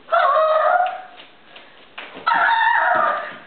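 A chicken clucks and crows in two loud, close bursts separated by a quieter pause, with no voices present.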